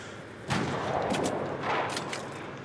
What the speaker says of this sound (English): there's more shooting going on